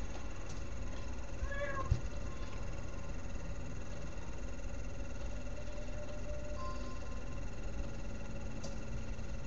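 A pet cat gives a couple of short, faint meows early on over a steady, loud background hum, and the rest is mostly that even drone.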